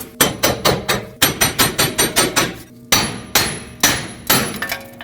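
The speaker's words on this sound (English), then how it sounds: "Now you want to use a hammer, tap this back and forth until it pops out" A hammer strikes a steel steering knuckle on a 2005-2021 Nissan Frontier 2WD during lower control arm removal. Loud, close metallic blows land in quick bursts of four to six, separated by short pauses.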